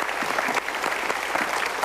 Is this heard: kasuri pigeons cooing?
no